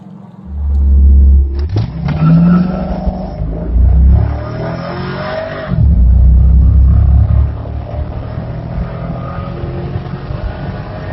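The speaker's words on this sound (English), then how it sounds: "we're going to heat up these tires, and we're going to do a 0 to 60" A stock base-model C5 Corvette launches hard on a 0 to 60 run. The engine roars loud and close through two surging bursts, separated by a gear change, then settles into a lower rumble.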